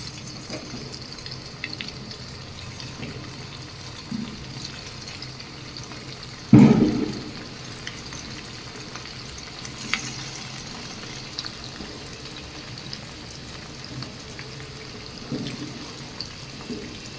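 Semolina and potato snacks dropped into hot oil, a sudden bubbling sizzle burst as they hit, then a quieter steady frying hiss with small pops.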